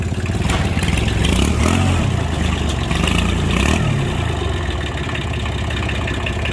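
A Daedong L2202 tractor's diesel engine idles nearby, a loud low chugging rumble with rattly clatter that swells briefly, then settles.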